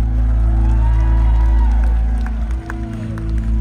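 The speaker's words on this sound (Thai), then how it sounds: "ปรบมือให้กับตัวเองหนึ่งทีนะครับ" A concert crowd at Big Mountain festival in Thailand cheers and claps over a loud, steady low rumble of stage amplification, with scattered shouts and a brief dip partway through.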